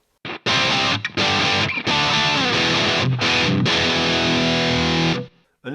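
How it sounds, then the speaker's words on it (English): Distorted electric guitar played through a Headrush Gigboard with a reverb room effect, loud sustained chords and riffs with brief gaps, ringing out alone before cutting off. "let's just add a little bit of reverb here, and we'll do some room love"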